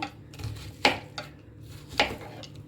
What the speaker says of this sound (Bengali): আমি প্রথমে তরমুজগুলোকে ছোটো ছোটো পিস করে নেব